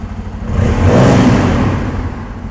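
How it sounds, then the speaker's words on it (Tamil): A Bajaj Pulsar N250 motorcycle revs close by with a throaty exhaust note, the engine climbing to a loud peak around the middle before easing back down, heard alone without talk. "எக்ஸாஸ்ட் நோட் சூப்பராக இருக்குது வண்டியோடது."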